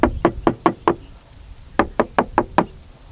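Knuckles rap on the metal body panel of a Mahindra Thar: two quick bursts of about five solid knocks each, close and crisp, separated by a short pause, with no talking.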